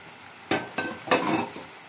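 A spoon stirs coffee with milk in a cup, giving a few short clinking, scraping bursts in a quiet kitchen with no talking.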